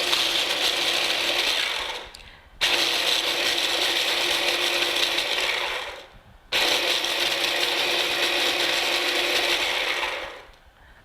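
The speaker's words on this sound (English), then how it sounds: "you can just use a small food processor like this" A small food processor grinds Oreo cookies into crumbs in three long whirring, rattling bursts, each separated by a brief pause. The sound is close and fairly loud, with no talking.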